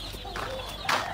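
Brief clucking from a chicken nearby, a couple of quick calls over low background rumble.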